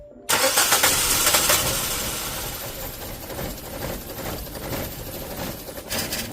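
A 2009 Nissan Tiida with a rough idle and misfire cranks briefly, then catches and fires up, settling into a loud, uneven running engine close by.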